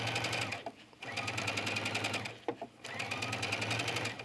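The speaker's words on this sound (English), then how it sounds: "Go ahead and do a back stitch, and then stitch all the way around." A sewing machine stitches lace onto a garment in steady rapid bursts, running, pausing briefly, then resuming, close and clear with no talk.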